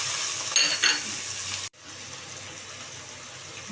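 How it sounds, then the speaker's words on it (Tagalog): Ground pork sizzles steadily in a hot pan, a loud continuous frying hiss with scraping stirs early on, then dropping to a quieter, even sizzle. "Saka natin ilalagay ang giniling. Pero ito lang guys hanggang mag-brown."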